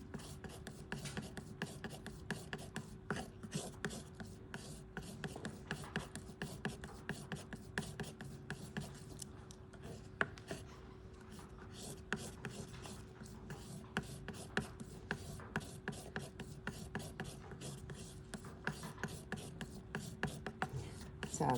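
A brush or palette knife scrubs steadily across a palette, mixing orange with phthalo blue paint in dense, continuous rubbing and tapping strokes, quiet and close.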